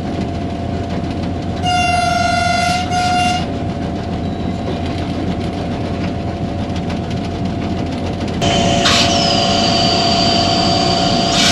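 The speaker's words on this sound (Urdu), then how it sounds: "کنٹینیوس وسلنگ کرنی پڑتی ہے جب بھی یہاں سے گزریں" From inside the cab of an HGMU-30 diesel locomotive on the Karachi to Mirpurkhas line, the horn sounds in two long, loud blasts over a constant engine rumble and rail noise.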